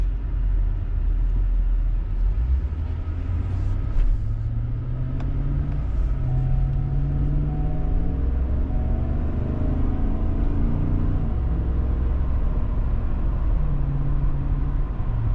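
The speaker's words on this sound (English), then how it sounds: "I'm gonna take it for a loop, see how it does." A 2011 Chevrolet Suburban with a 2.5-inch leveling kit cruising through a residential neighborhood, heard from inside as a steady loud rumble of engine and road noise with gentle rises in pitch as it speeds up.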